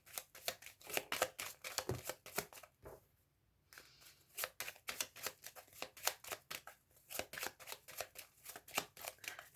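Tarot cards are shuffled and drawn close up in rapid, crisp riffles and slaps, pausing briefly once before resuming in quick repeated bursts, with no talk.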